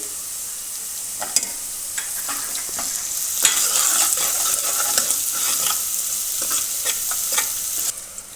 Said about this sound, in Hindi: अदरक की हम प्याज के साथ ही थोड़ी सी भुनाई करेंगे